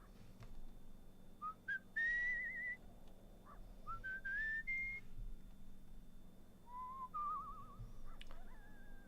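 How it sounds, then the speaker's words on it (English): Someone whistles a tune softly in the video game Where the Water Tastes like Wine, with short pitched notes and sliding phrases separated by pauses, over a low steady background hum. "Makes the time go by faster when we whistle."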